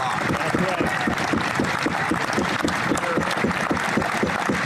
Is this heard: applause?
yes